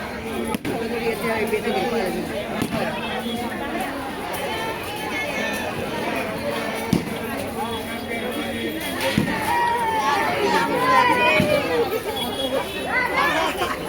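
Pilgrims crowd around the Vitthal Rukmini temple in Pandharpur during the Kartiki Wari, a dense babble of many voices and footsteps nearby, with someone talking over the steady hubbub.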